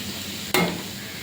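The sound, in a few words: stirring frying onions with coconut in a pan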